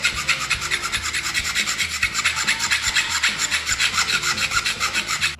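A hand file rasping a Honda CR125 motorcycle clutch plate flat, loud close strokes in a steady back-and-forth rhythm.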